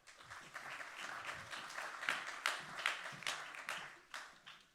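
An audience at a conference on the LIFE programme for the Baie de l'Aiguillon applauding a speaker, a fairly soft, moderately sized round of clapping that swells and continues with uneven bursts, heard from a distance.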